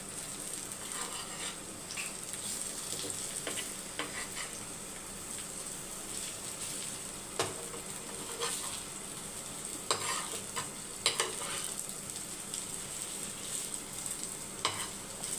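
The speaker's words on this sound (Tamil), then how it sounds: "இப்போ ரோஸ்ட் ஆகட்டும் வந்து கருணக்கிழங்க திருப்பி விட்டுடலாம்" Chunks of elephant foot yam roast in a pan with a steady low sizzle, and occasional scrapes and clatters sound as the pieces are stirred and turned over. No one speaks.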